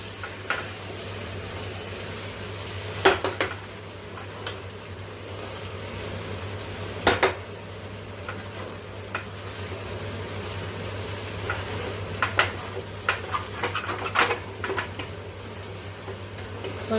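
Sabudana khichdi of sago pearls stirred in a pan over a low flame: a faint sizzle under a steady low hum, with occasional sharp scrapes of the spoon against the pan.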